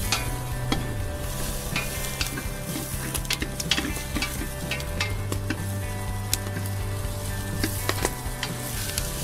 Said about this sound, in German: Und dann auch schön immer wieder umrühren. Aufpassen, dass die Zwiebeln nicht zu schwarz werden.